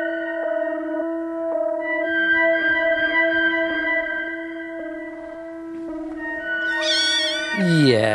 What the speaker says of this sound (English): There's nothing like that little mewing noise and the warm, soft fur of the nation's favourite pets